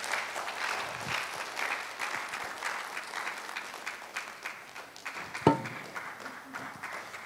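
An audience at a business forum and expo claps to welcome speakers back to the stage, a steady wash of moderate applause that continues throughout, with one sharp louder clap near the end.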